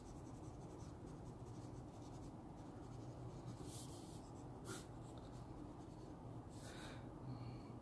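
A Monteverde Prima fountain pen nib moving across paper gives a soft, continuous scratchy rustle over a low background hum, with a few brief louder strokes near the end.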